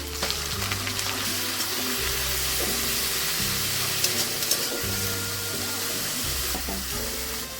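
Bay leaf, dried red chilli and cumin fried with garlic and onion paste sizzle loudly and continuously in hot oil, close by, with a steady hissing spatter.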